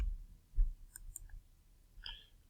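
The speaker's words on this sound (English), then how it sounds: "And I'm just right clicking to get to this." A computer mouse being right-clicked while building an affiliate bridge page in a free HTML editor; a couple of faint, quick clicks stand alone in a quiet room.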